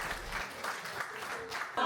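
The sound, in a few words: audience applause at a music school concert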